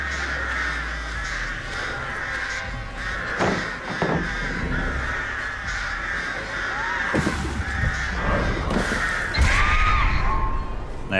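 Crows caw repeatedly from the Artist killer's birds in the Dead by Daylight video game, several harsh calls spread over a steady game ambience, some close and loud, others fainter.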